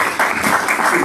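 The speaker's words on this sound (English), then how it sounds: "give the Lord a hand clap of praise" Church congregation clapping their hands in praise during a service, a short burst of scattered applause with voices mixed in underneath.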